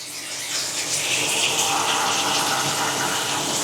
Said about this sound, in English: It's going to be hard for you to see because of the coolant running out. It's going to drip for a little while.